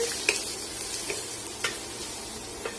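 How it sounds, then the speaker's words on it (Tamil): Brahmi leaves and tomato stir-fried together in a pan for a chutney, with a steady soft sizzle broken by several sharp spatula scrapes at irregular intervals, close up and with no talking. "இதையும் இதோட சேர்த்து வதக்கி விடுங்க."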